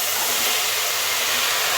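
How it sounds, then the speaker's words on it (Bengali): Chopped ash gourd hits hot oil seasoned with fenugreek seeds, giving a loud, dense, unbroken sizzling hiss that holds steady from start to finish. "আর একটু ভেজে নিয়ে, আমার ভাজা হয়েছে, মেথিটা একটু সময় ভাজা হয়ে যায়, দিয়ে দেবো আমি চাল কুমড়োটা"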